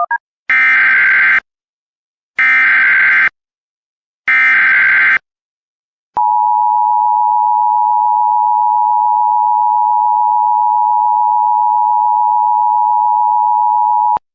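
Emergency alert system attention tone during a county mass notification test for a statewide tornado drill: three loud two-tone bursts about a second each, then a long steady tone of about eight seconds, with no talking.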